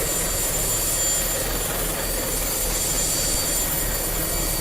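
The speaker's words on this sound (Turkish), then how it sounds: "3 numaralı motorumuz çalıştı" A T129 ATAK helicopter's engine runs in a loud, continuous turbine roar and whine, steady and close throughout.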